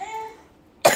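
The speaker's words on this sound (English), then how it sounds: "cough." A single sharp, close cough bursts out at the end, right after a short stretch of faint voiced sound.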